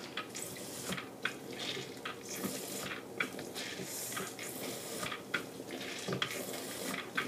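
Water runs steadily from a tap while a bottle crate is rinsed for sanitizing on a home-brewing bottling day, a quiet splashing flow with occasional louder spatters and clunks.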